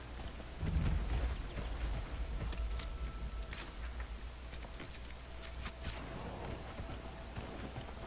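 Rhythmic clip-clop of horse hooves at a trot in Dragon Age: Inquisition, moderately loud and steady, with faint background noise.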